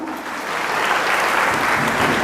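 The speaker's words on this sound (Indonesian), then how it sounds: "Tuhan tepuk tangan untuk Tuhan" A church congregation bursts into applause at a Christmas gathering, dense clapping that swells after a brief quieter start and holds loud and steady.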